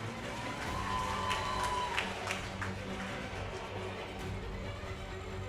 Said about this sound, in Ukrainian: Ще раз оплески їм.